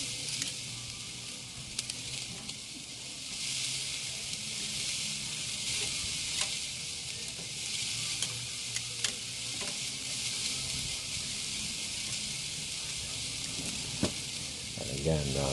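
Ribeye and filet mignon steak kabobs sizzle steadily on an oiled grill for a long stretch, with scattered pops and crackles from flare-ups.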